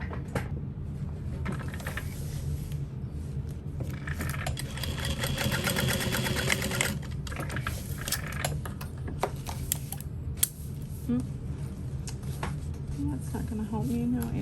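A sewing machine basts fabric for a parachute-style knapsack, its needle running in quick steady bursts with short pauses, close and fairly loud, under a low mechanical hum throughout.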